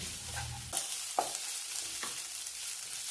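Onions frying in oil in a pan for a pork curry, a steady close sizzle with a few sharp scrapes and clinks of stirring spaced through it.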